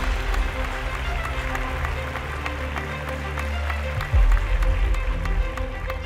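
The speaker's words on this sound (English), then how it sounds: "A big round of applause to the presenters." An audience at a business leader awards ceremony applauds the presenters, a continuous crowd clapping that runs through the whole stretch, with a low thud and rumble near the end.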